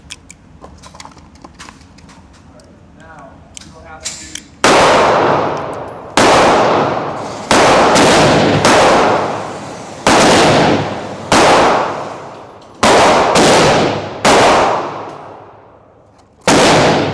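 A Smith & Wesson M&P 2.0 Pro Series .40 S&W pistol with a forced reset trigger firing several very loud close shots in short bursts and singles, each with a ringing decay, after quieter handling sounds.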